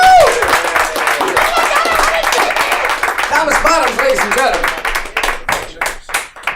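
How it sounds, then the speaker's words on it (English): A comedy club crowd claps and applauds a comedian at a live stand-up night, with moderately dense clapping that thins into scattered claps while a voice on a microphone speaks over it. "Give a round of applause for Johnny Cuevas."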